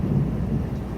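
Rain shower with rolling thunder in West Texas, a steady low rumble filling the whole second under a continuous wash of falling rain, with no voices.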